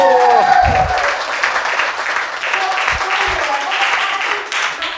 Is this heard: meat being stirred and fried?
no